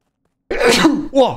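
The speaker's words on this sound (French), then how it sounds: "Oh, j'ai éternué" A single sharp sneeze bursts out suddenly after silence, close and loud, followed by a short second voiced exhalation.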